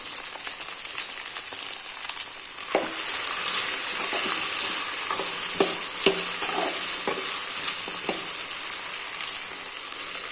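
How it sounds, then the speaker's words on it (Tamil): Ladies' finger (okra) is stirred and sautéed in a pan of oil, giving a constant loud sizzle broken by a scatter of spatula scrapes and taps against the pan, with no talking. "இப்போ நம்ம இதை வர வதக்கி விடலாம்"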